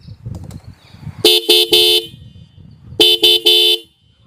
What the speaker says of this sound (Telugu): హార్న్ యొక్క లౌడ్నెస్ అనేది ఒకసారి చెక్ చేద్దాం.